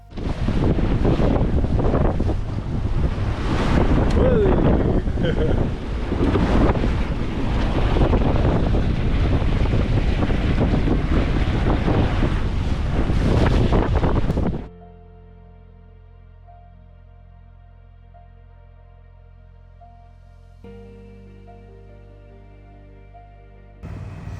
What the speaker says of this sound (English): that 30-knot headwind was still blowing and the swell was crashing